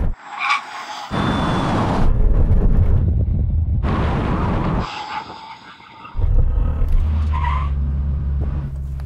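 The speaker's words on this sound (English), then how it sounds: "Okay, now we have a brake test from 100 miles an hour. When we reach the line, full emergency stop" Cars including a Lamborghini Urus, Porsche Turbo GT, BMW X6M, Tesla Model X and Jeep Trackhawk brake hard from 100 mph, with loud broadband tire roar and skidding in bursts separated by abrupt gaps.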